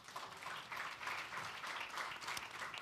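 An audience at a plenary session of a security and global-crises conference claps steadily, giving an even round of applause that sounds fairly distant and soft and runs unbroken throughout.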